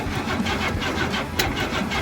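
A 1969 Cadillac engine, abandoned and being revived, cranks over with a rapid, rhythmic starter churn that continues steadily throughout, fairly close and without talking.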